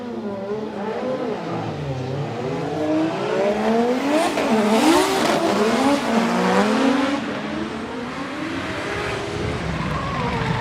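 Drift cars race at Okayama International Circuit in a competition round, with loud revving engines rising and falling in pitch and squealing tires sustained throughout, close and continuous.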